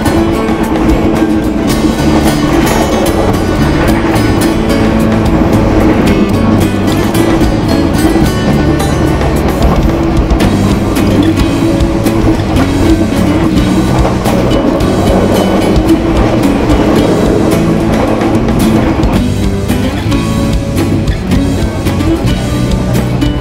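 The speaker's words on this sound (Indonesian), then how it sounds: "kereta api Pandalungan diberangkatkan kembali dari stasiun Sidoarjo" Pandalungan passenger train pulling away from Sidoarjo station, heard from inside the carriage as a steady loud rumble with rhythmic wheel clatter on the rails, continuous throughout with no talking.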